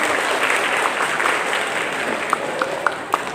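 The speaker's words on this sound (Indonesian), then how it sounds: "tepuk tangan dulu buat dia berani bicara" An audience at an Indonesian language proficiency information session applauds in a sustained, even wash, fading toward the end as a few loud, separate claps ring out close by.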